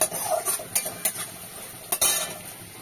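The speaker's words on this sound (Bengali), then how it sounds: "এই দেখো মশলাটা একটুখানি কষিয়ে নিয়েছি" Spices sizzle with coconut and ginger in a pan while a utensil stirs and clinks against the metal in a few quick, close strokes over a faint frying hiss.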